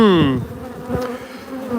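Honeybees buzz loudly in an opened queenless hive where young bees are emerging, a close, dense drone with one pitch sweeping downward at the start, then a steady hum.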